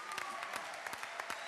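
A live audience applauds at an evening concert, a steady patter of many hands clapping at moderate distance, fairly faint and with no voices over it.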